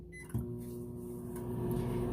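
A microwave oven hums steadily with a low, even drone after a soft click at the start.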